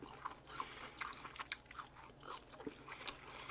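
Close, quiet chewing of a medium-rare Outback tomahawk steak, with soft repeated wet crunches and squishy bites in an irregular rhythm and no talking.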